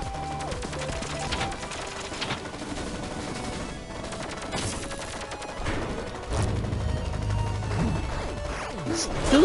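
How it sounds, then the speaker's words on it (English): Goo being fired in the video game LittleBigPlanet 3, a series of quick, splattering shots in irregular bursts over a steady game backdrop, moderately loud. "Dude's just shooting goo at me"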